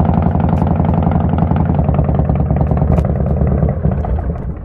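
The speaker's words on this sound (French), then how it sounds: "C'est cool, en fait c'est une moto." A motorcycle engine in the Roblox video game drones loudly and steadily throughout, a dense, rumbling mechanical tone with no talking over it.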